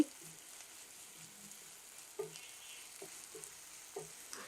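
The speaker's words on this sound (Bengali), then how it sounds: "আদা রসুনের পেস্ট একটু ভেজে নিচ্ছি।" Ginger garlic paste frying in a pan for an okra curry, a faint, steady low sizzle broken by a few soft taps and scrapes of stirring.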